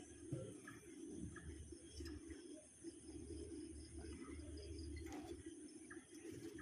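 A male pigeon coos in low, repeated, throaty rolls close by over a faint steady hum of insects and background noise, with occasional chirps and no talk.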